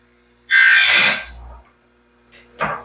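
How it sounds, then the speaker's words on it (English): A chainsaw grinding stone sharpens the teeth of a sawmill band blade, a loud high grinding burst lasting about a second, then a shorter second touch of the stone after a pause. "The thing I do like about grinding with a chainsaw rock is it's ridiculously stable."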